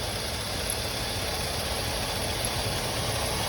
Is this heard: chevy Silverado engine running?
yes